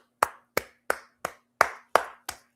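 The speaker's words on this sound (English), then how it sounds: "I got to clap for y'all" Seven sharp hand claps from a basketball-talk streamer, spaced fairly evenly about a third of a second apart, close and crisp with quick decays and silence between them.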